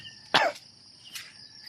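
One sharp, close cough, then a softer second cough, over a faint steady background of chirping insects.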